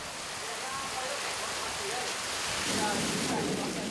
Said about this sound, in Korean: 갑자기 굵어지는 빗줄기.